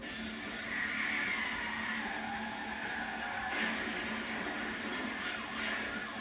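A car's tires skid as the driver floors it during a police chase in Melbourne, Florida, a continuous harsh rushing roar that holds steady for several seconds without speech.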